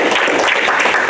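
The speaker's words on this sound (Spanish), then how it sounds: "Dele fuerte palmas a la presencia de Dios y a tu palabra." Church congregation clapping loudly and steadily together in a dense burst of applause.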